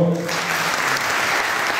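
Audience applause at an Italian poetry and theatre event in Foggia, a dense, even wash of clapping from a crowd that holds steady throughout, with a brief voice fading out at the very start.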